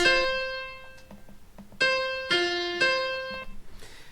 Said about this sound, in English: So what was a perfect fourth is now a perfect fifth.